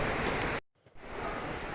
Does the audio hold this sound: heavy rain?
yes